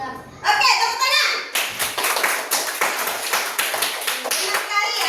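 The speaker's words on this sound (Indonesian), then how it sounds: "Oke, tepuk tangan." Children clapping together in a classroom after answering a teacher's question, a burst of quick overlapping hand claps that starts abruptly and keeps up steadily for several seconds, close and fairly loud.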